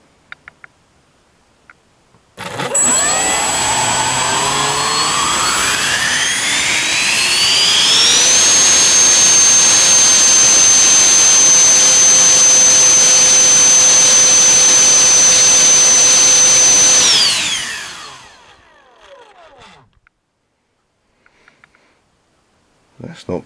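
A 12-blade 64mm electric ducted fan on a 6S battery spools up with a rising whine, then holds a loud, steady high-pitched roar for about ten seconds before winding down to quiet.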